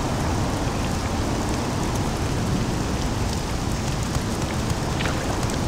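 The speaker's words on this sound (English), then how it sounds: "At least we're out of the rain." Steady, dense rain pours down in an Elder Scrolls video game, a loud continuous hiss with no voices.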